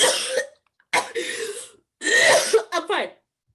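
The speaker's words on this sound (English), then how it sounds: "He inhales and starts having a coughing fit." A person in a coughing fit, with three loud, harsh bursts of coughing and throat clearing close by, separated by brief silences, the last burst breaking into several rapid coughs.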